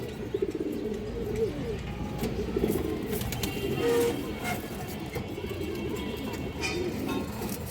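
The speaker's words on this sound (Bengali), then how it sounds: "যারা ডাক দেখতে চান কৌতরের এই যে দেখেন ডাকটা দেখেন নরের" A colourful male pigeon coos in repeated rolling calls close to the microphone, with other birds chirping faintly and soft speech in the background.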